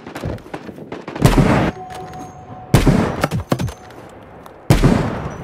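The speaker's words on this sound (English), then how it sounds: "These shots aren't registering." Loud gunfire in an online shooter video game, three heavy bursts of rapid shots, each followed by short trailing pops, with quieter stretches between them.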